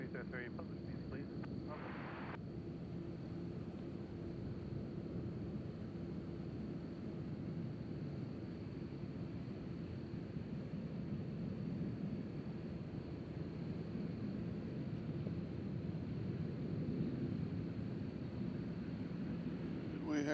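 Steady jet engine roar from a Southwest airliner at Nashville International Airport on a windy day, a continuous broad rumble holding loud throughout with brief voices early on.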